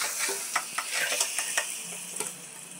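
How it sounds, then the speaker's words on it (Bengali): Prawns fry in hot salted oil in a wok, giving a gentle continuous sizzle broken by light clicks and scrapes of stirring. "চিংড়ি মাছটা ভাজতে টাইম লাগে না, সবকটা মাছ একবারে দিয়ে দিচ্ছি।"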